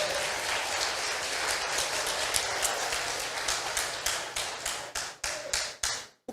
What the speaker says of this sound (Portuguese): Se você crê, aplauda ele aí, em nome de Jesus